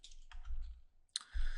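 Typing on a computer keyboard: a few quick, quiet clicks of keys in two short bursts with a pause between, close and alone.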